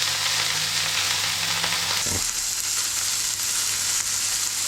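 Broccoli sizzles loudly in a hot pan for broccoli pasta, a steady bright hiss with a brief clatter as pieces settle, no talking.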